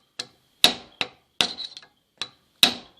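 A wheel bearing on a Massey Ferguson 240 tractor is driven into its seat with a hammer: six sharp metallic strikes at uneven intervals, close and ringing briefly, with no talking.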